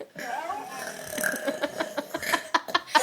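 A loud, drawn-out burp close up, rumbling continuously before breaking into choppy bursts that sound like laughter toward the end.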